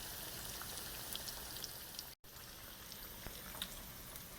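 Eggplant balls frying in a pan: a steady, dense crackle and sizzle of hot oil throughout, with a brief dropout in the middle, close and moderately quiet.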